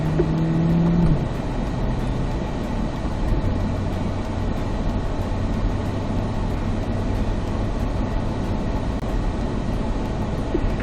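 A C8 Corvette rolling slowly onto a racetrack, a steady low engine drone and road rumble from inside the cabin with a brief tonal shift near the start, no distinct revving.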